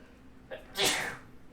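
A single sneeze during a tabletop Dungeons & Dragons game session, with a short intake of breath followed by a sharp, breathy burst heard close but at moderate volume against quiet room tone.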